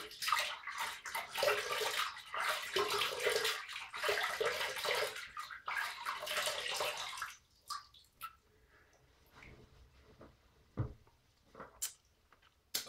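Tap water runs steadily into a bathroom sink as someone wets their face before a shave, a dense splashing hiss for about seven seconds, then stopping into faint drips and small handling noises.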